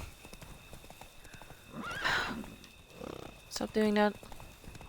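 Roach the horse in The Witcher 3 clopping along, then a loud whinny near the end, with someone talking over the hoofbeats earlier.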